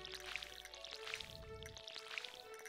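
Watering can splashing water over crops in the Stardew Valley farming game, three short pouring bursts evenly spaced over steady game music, with no talk.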